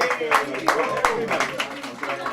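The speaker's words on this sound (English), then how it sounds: "Please give it a huge round of applause." Audience applause at a magazine launch event with a celebrity guest, brief scattered clapping mixed with a voice talking over it.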